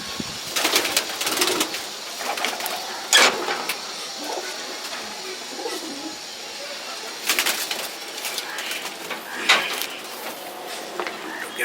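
Domestic Giribaz pigeons coo in a home loft, soft repeated calls with scattered wing flaps and clattering knocks, fairly close, alongside occasional low background voices.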